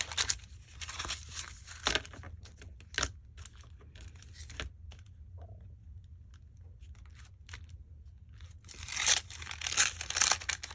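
Glassine paper torn along a tear ruler for shabby vintage-style bag pockets, giving crisp bursts of ripping and crinkling at the start and again near the end, with quieter handling noises between.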